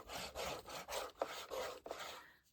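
A spatula is rubbed back and forth to burnish a scored fold in paper for a photography mini album, with rhythmic, close scraping strokes of about five quick passes.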